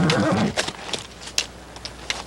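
A horse in a Western television series gives a short neigh at the start, followed by scattered faint knocks and shuffles; fairly quiet and brief, with no talking.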